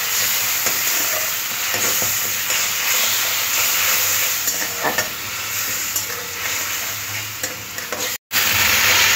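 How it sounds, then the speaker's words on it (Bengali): Spice paste with chilli powder and a splash of water sizzling loudly in a pan for Bengali fish curry, a constant close hiss and crackle with stirring scrapes, briefly cutting out near the end, no talking. "একটু জল দিতে হবে, দিয়ে মশলাটাকে কষতে হবে।"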